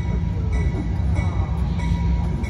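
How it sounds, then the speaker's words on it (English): The Silver Meteor passenger train rolls into a station at close range, its heavy low rumble carrying light squeals and clanks from the wheels and cars, with no talking. "Guess who's coming? The choo-choo train."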